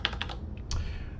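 Computer keyboard keys pressed in a handful of quick, crisp clicks, close and clear in a quiet room.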